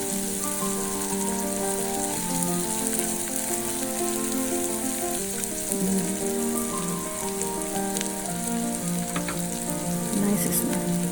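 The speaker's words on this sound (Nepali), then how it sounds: "त्यो पनि हालेर एकछिन फ्राई गर्ने, अलि रातो रातो हुनुन्जेल फ्राई गर्ने" Chopped onion fries in a pan with a dense, loud, continuous sizzle like rain on a surface, a steady close crackle with a few light stirring taps, and no one speaking.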